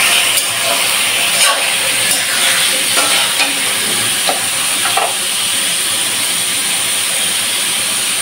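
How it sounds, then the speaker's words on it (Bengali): Chana dal and potatoes fry in hot oil in a pan for a chicken curry, giving a steady, loud, continuous sizzle with a few faint stirring scrapes and no voices. "বুটের ডাল আর আলুটাও ভেজে নেব।"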